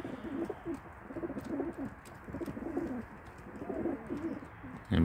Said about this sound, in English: the pigeons are trying to feed and the cat is harassing them